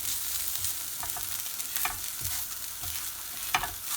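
Chicken with spices cooking in a pan for a quesadilla filling, a soft continuous sizzle with intermittent scraping stirs and clinks of a utensil against the pan, close and without speech.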